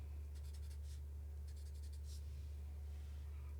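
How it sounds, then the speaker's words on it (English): A pen scribbles zigzag lines on paper while drawing a cartoon tree: quick bursts of scratchy strokes come in short clusters over a low, steady background hum. "I want to do these zigzag lines, kind of like a scribble, until I get to the bottom part"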